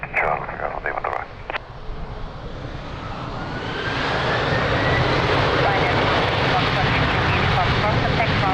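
A fixed-wing aircraft takes off from runway 02 at Lisbon Airport on a windy day, its engine roar swelling from faint to loud and holding steady, with radio chatter and clicks audible early on.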